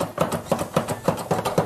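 A knife chops a shallot on a cutting board in a steady, fairly quick rhythm of about six crisp strokes, close and clear, with no talking.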